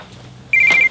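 A telephone rings once with a bright electronic trill that starts abruptly after a quiet moment, loud and close, with no voices over it.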